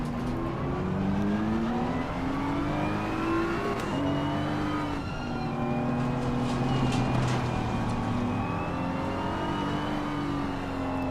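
Several race car engines idle and rev together in a crowded field on the small Snetterton circuit in Assetto Corsa Competizione, with pitch rising and falling while cars creep forward before the start.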